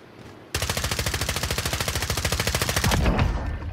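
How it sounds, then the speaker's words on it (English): Automatic gunfire in a shooter video game: a rapid, steady burst of loud shots, close and dense, running about three seconds before trailing off. "Team wipe. Good shot, Trim."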